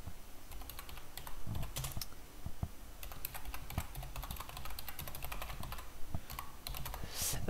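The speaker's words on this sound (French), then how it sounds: "Vous entendez peut-être le clavier" Steady computer keyboard typing, a quick run of light clicking keystrokes close by, with a brief louder burst near the end.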